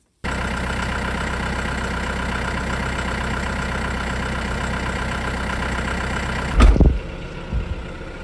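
A tractor engine idles steadily and close by, a constant low heavy rumble, broken near the end by a couple of loud thumps.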